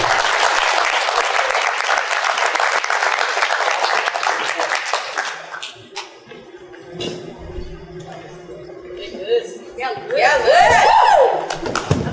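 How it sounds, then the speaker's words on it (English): Audience applause at a National Letter of Intent signing ceremony at Goffstown High School rolls steadily for several seconds, then fades into a few voices, light laughter and a speaker talking. "one more round of applause for Payne Bickford and school"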